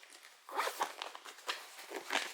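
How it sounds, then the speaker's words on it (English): A zipper on the pocket of a handmade evening bag is pulled open in a few quick, raspy close-up strokes, with no voice heard. "I am going to open up my zipper pocket,"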